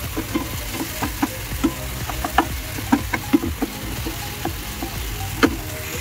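Chicken Maggi ingredients, including a chicken Maggi cube, fry and sizzle steadily in a pan, with crackling pops and scraping stirs scattered throughout at close range.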